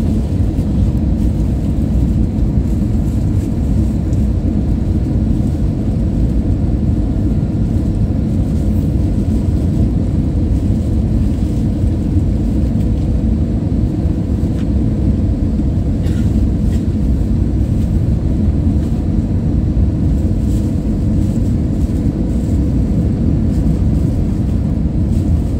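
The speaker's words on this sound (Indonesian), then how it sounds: "Pilot berhasil mendarat dengan sangat lembut." A continuous loud, low rumble of an airplane landing after crossing Lake Sentani, Papua, steady throughout with deep roaring engine and wind noise.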